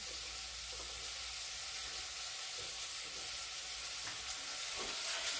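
Onions sizzle steadily in a hot pan, a dense, continuous frying hiss with faint stirring clatter, loud and close with no talking.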